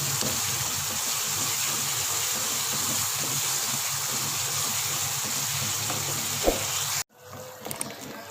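Water is poured into a pan of frying tomatoes while cooking dal chana, a steady loud gushing hiss that runs several seconds before stopping abruptly, followed by faint kitchen clatter.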